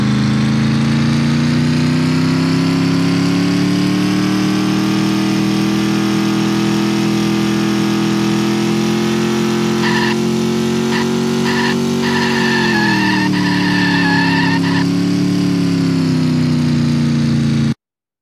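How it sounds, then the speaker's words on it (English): Car engine in a Unity driving game drones loud and steady throughout, its pitch rising slightly as the car accelerates, with a brief mid-range rattling burst partway through and no voices. "So while I was driving, the car engine was pitching higher."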